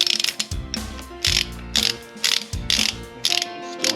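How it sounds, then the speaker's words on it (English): A ratchet wrench snugs an axle adjuster bolt on a 2015 Ducati Multistrada, giving loud, close bursts of rapid clicking pawl ticks in several short strokes separated by brief pauses. "Get that just snug. We'll snug down the other one so that at least kind of even."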